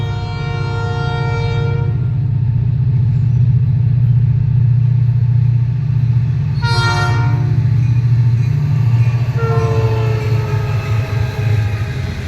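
A freight train led by EMD SD40-2 locomotive 703 rolls past with a loud, steady rumble. Its horn sounds in three separate blasts: one long, one short and one near the end.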